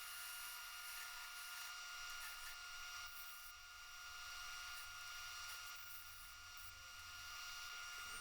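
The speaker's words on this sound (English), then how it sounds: "I go over to the belt grinder and grind this out, make it nice and round" Belt grinder grinding a metal vise part round, a continuous high whine with a steady abrasive hiss.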